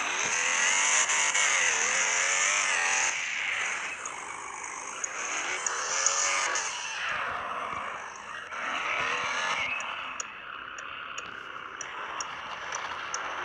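A Renault Clio engine climbs off-road in a driving game with a continuous revving whine that rises and falls as the car strains uphill. Faint ticking clicks join near the end.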